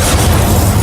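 A loud, dense burst of the Incendio fire spell in Hogwarts Legacy, a continuous roaring whoosh with heavy low rumble filling the whole moment.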